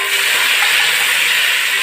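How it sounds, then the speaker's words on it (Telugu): Tomatoes hit onions browning in hot oil for mutton dum biryani, producing a loud, steady, close sizzling hiss that fills the whole moment without a break. "ఇప్పుడు టమాటో వేస్తున్నానండి."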